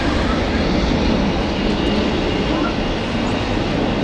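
An Austrian Airlines airplane departs Zurich Airport for Vienna, its engines producing a loud, steady, broadband roar that holds constant throughout with no pauses.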